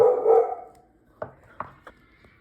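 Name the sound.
dog barking at visitors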